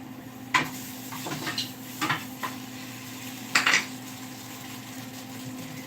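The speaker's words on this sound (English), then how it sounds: "I gotta stir up my sausage" Sausage is stirred in a pan, with a few sharp scrapes and clinks of a utensil against the metal at irregular intervals over a low steady hum.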